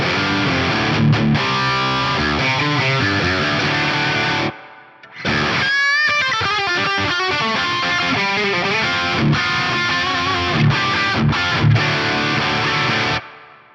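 A distorted electric guitar plays steady chords and a lead line through an FM3 reverb with a low cut around 600 hertz, giving a spacious tail, stopping briefly partway through.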